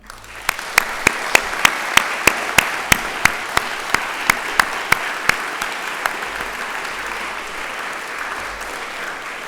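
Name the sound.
audience applause for panellists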